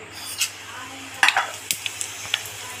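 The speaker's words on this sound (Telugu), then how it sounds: "కళాయిలో ఒక 4 స్పూన్లు ఆయిల్ పోసింది" Seeds and cumin in hot oil in a kalai pan, heard as a close sizzle broken by a burst of crackling and several sharp clinks of a spoon against the pan.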